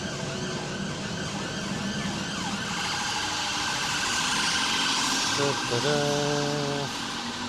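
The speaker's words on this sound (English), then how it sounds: "Fire alarm at this building. Ambulance coming." An ambulance siren wails faintly in the distance, responding to a building fire alarm, its rising and falling tone partly buried under steady background noise and traffic rumble.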